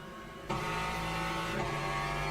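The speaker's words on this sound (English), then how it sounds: "Let's listen to what that Corvette sounds like inside" Corvette race car engine in Le Mans Ultimate, heard from the cockpit: a steady, loud engine drone with strong low harmonics, stepping up in intensity after a brief quieter start and holding through.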